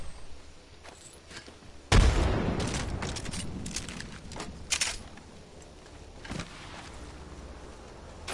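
A frag grenade blast in Apex Legends booms loudly partway in, followed by scattered bursts of gunfire and crackling impacts fading over several seconds.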